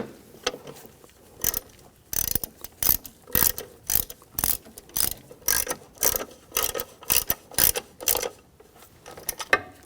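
Ratchet wrench snugging down radiator bolts on a 2010-2014 Volkswagen GTI 2.0 L4, rapid clicking bursts repeating in quick strokes with brief pauses between, close and clear with no talking.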